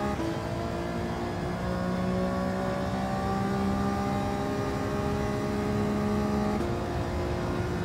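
A car engine drones and revs in Gran Turismo 7, a steady loud engine tone with pitch rising and shifting across several seconds, no voices over it.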